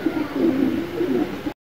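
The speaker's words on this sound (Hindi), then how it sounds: "कबूतर आया हुआ है" Close, loud pigeon cooing, a steady low throaty rolling coo that pulses for about a second and a half before cutting off abruptly.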